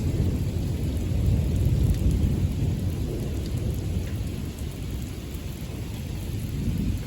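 Steady rain falls with a deep, rolling rumble of thunder through an extreme lightning storm. The roar stays loud and continuous throughout, with no voices.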